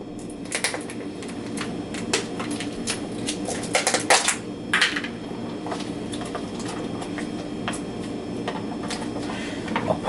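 Scissors poke and snip at a Gorgonzola cheese package, giving close, irregular crisp clicks and plastic crinkles over a low background hum, with a louder cluster of snaps in the middle.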